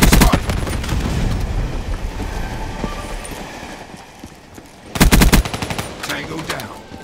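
Rapid bursts of machine-gun fire crackle in a video game battle alongside a Hellstorm missile strike, with loud rattling volleys at the start and again near the end over a rumbling background.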